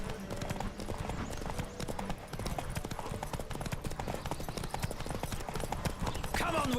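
Fast hoofbeats of a galloping horse drum continuously during a horse race in The Witcher 3, near and loud, with some voice sounds mixed in and a horse whinnying near the end.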